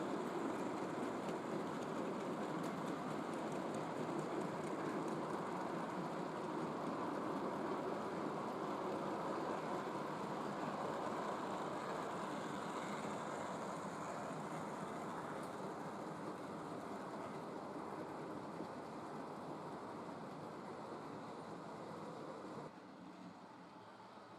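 Model trains run steadily on a layout, a K3-hauled set heading north and a V2-hauled set heading south, giving a continuous close rolling rumble and clatter that holds level for over twenty seconds before dropping slightly at the end.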